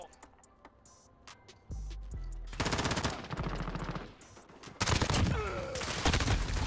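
An MP5 fires in bursts during a Shoot House free-for-all match, with loud, rapid automatic volleys that start and stop and trade with other gunfire across the map.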